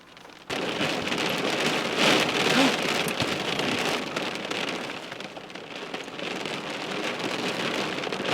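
Steady rain pattering on a surface, heavy and continuous, with a low rumble of distant thunder swelling in the background.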